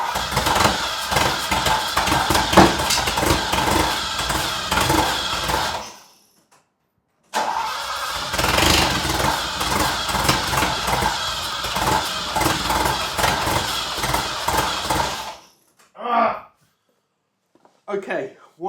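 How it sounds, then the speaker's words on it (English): Ferrari 308 with a suspected mechanical timing fault cranking and trying to fire, loud and rough engine noise in two long bursts separated by a brief silence, then a few short fading coughs near the end. "I'm going to try and start it again now,"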